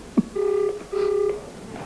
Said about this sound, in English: I'm now ringing Ken Morgan, the car dealer